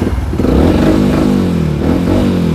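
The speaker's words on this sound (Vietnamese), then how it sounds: "máy êm ru, máy nổ như ẹt 150 luôn" A black-and-silver Yamaha R15 V2 motorcycle engine runs close and loud, its steady note rising and falling as it revs, with no one talking.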